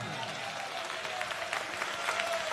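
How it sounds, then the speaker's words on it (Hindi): An audience breaks into applause, a steady field of handclaps at moderate level with a faint voice in the background. "तालियां बजा लो फ्री में"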